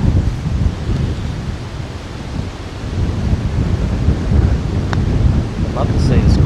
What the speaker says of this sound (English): Oh, jeez, this breeze.